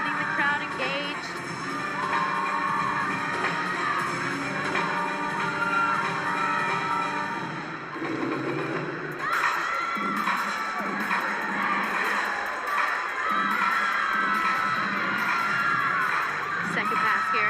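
A crowd at a women's college gymnastics meet cheering and shouting continuously, a dense wash of voices and high-pitched yells that swells briefly midway, loud and sustained.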